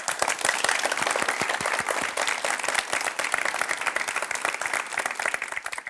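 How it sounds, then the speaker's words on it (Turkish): An audience at a talk breaks into dense, sustained applause, many hands clapping rapidly and loudly in a continuous close wash without any speech. "Bir alkış alalım mı?"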